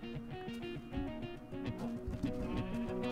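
Video game sheep bleat repeatedly at night in a desert setting while wolves gang up on them. The bleats are wavering and overlap in a steady, fairly close chorus, with no talking.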